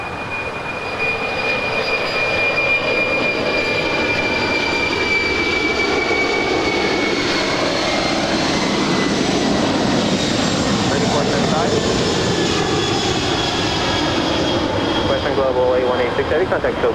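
Jet airliner engines roaring on runway 25 Left at LAX, a loud, sustained, broadband rumble with a gradually shifting whine, close by and continuous for the whole stretch.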